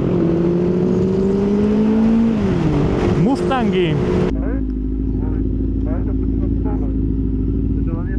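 Several Ford Mustang cars drive past on a road with a steady engine drone and a rising, revving pass-by, heard from a motorcycle over continuous wind and engine noise. Voices talk over it.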